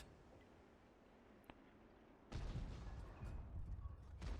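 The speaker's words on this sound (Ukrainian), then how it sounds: "Мене знову арта стріляє, чи що?" In a World of Tanks match, artillery fire hits a tank: a faint tick, then a sudden loud booming impact with rumbling aftermath and further crackling hits.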